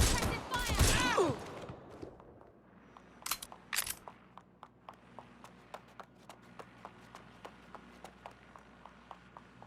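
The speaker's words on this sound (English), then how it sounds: "Providing suppressive fire." Gunfire in Watch Dogs: Legion follows a loud voiced outburst, with a couple of sharp bursts and then a steady rhythm of regularly spaced single shots that gradually fades.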